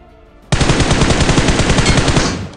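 Shotgun fire in the mobile battle royale game BGMI: after a brief quiet lead-in, a loud, rapid, continuous volley of gunshots bursts in and keeps going to the end, close and punchy, with no voices.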